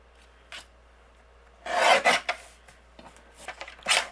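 Teal cardstock is cut on a paper trimmer in several short rasping strokes, crisp and close, with brief pauses between cuts.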